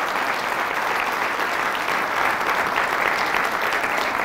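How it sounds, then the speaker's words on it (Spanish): A church congregation applauds steadily and loudly for a few seconds, an even wash of many hands clapping together with no pauses and little talk beneath it. "Fuertes aplausos al Señor por su amor y su misericordia."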